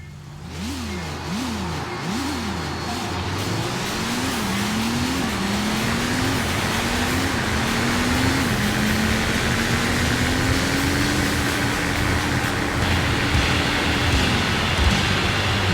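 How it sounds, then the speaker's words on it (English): Car engine in the Sega GT 2002 Xbox racing game revving through quick repeated rises, then climbing steadily through the gears as it accelerates and holds a high drone, loud and alone. "I did hear that engine rev"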